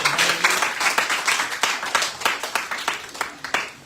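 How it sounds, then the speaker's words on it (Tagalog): Congregation at a church worship service clapping for the Lord in a steady, rhythmic beat, loud and close, with no talk over it. "Palakpak sa lang mas Ginoo."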